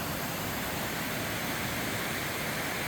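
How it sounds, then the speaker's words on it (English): A waterfall on Duncan Creek pours down over rock, making a steady, unbroken rushing hiss that fills the whole moment at an even level with no other sounds. "the falls comes all the way down"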